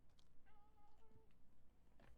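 Sig the cat gives a short, faint meow in a quiet room, a single thin rising cry lasting under a second, with light background noise.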